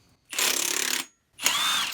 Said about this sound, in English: Connor's gonna see if his nut buster can take the crank pulley bolt off there